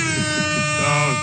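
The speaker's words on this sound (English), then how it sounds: "Air horns." Loud, sustained air horn blast with stacked harmonic tones, the pitch shifting slightly partway through, playing continuously over a faint voice during a sports talk show.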